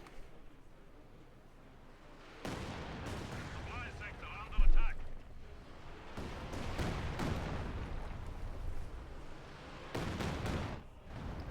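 Heavy artillery and gunfire in a Company of Heroes 2 match, Soviet against OKW forces, with booming blasts and rattling fire that swell and fade over a steady battle din.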